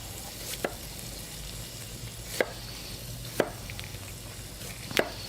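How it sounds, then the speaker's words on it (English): A knife cuts slits into a halved onion on a cutting board, giving four sharp, well-spaced taps of the blade over a quiet background hiss, with no voices. "We're going to cut some slits in them like this."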